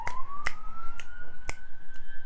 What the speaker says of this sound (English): I hope you can hear the sirens.